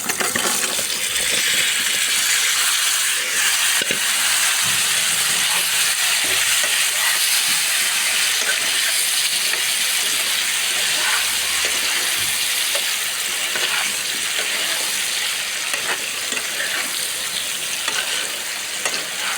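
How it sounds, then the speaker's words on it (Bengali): Sweet pumpkin pieces sizzle and fry in a hot pan with turmeric, a steady loud crackling hiss that runs continuously throughout. "এখন আমি মিষ্টি কুমড়োগুলো দিয়ে দেবো"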